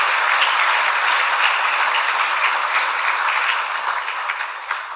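A crowd at a cultural gathering of a church claps in thick, steady applause that carries at a strong, even level for several seconds before tapering slightly toward the end.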